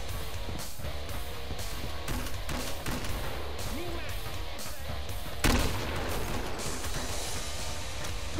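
Repeated thumping shots from a grenade launcher in Killing Floor, evenly spaced bursts over game noise with one louder blast near the end, while players talk.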